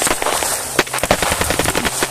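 Rapid bursts of gunfire aimed at a group, sharp loud cracks in an irregular volley with a few especially close, heavy shots mixed in.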